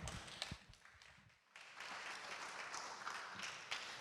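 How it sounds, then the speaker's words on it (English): Applause from the audience at a startup demo day. After a few soft taps, a steady wash of clapping builds and holds, fairly faint in the room. "let's give them a round of applause"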